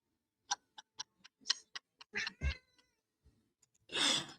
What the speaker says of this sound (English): I heard the cat meowing too.